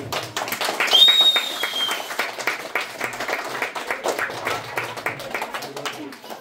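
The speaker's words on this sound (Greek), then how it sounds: "Τώρα, το μεγαλύτερο χειροκρότημα αξίζει όπως πάντα στα παιδιά." Audience applause for children at an event in a society's new building, a crowd clapping with distinct individual claps audible, swelling briefly near the start and then continuing at a moderate, uneven level.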